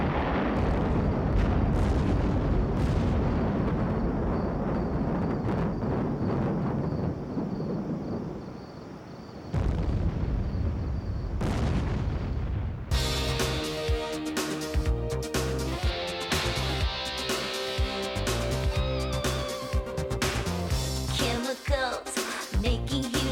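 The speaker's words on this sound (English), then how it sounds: "Chemicals making huge explosions." Huge explosions from chemical reactions boom and rumble loudly in a run of heavy bursts, followed by music and layered sound effects.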